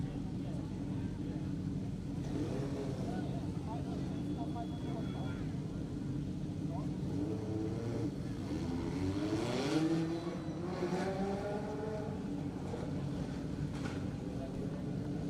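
Race cars roar around the track during a heat race, engines revving and rising in a steady wash of motor noise, with a public-address announcer talking over the din.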